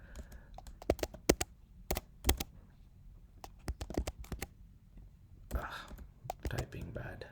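Soft keyboard typing in short bursts of clicks, close by, with pauses between runs and faint background murmur.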